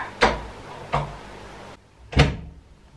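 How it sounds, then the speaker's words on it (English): A door thuds shut in a home, three distinct knocks or bangs spaced about a second apart, close and fairly loud, with no speech. "Close the door."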